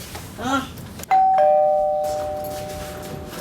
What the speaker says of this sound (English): Someone ring the doorbell?